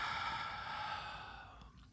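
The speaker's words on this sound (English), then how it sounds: "take a nice big deep breath" A long, deep breath drawn in and slowly let out during a calm EFT tapping exercise, a soft steady airy hiss that fades near the end, close and quiet with no talking.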